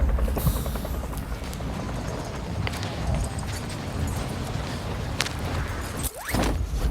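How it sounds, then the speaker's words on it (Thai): A low, steady helicopter rotor drone landing in the mobile video game Warzone Mobile, with a dense rumbling wash, loud and continuous, with a brief dip near the end. "เฮลิคอปเตอร์กำลังจะลงสู่พื้น"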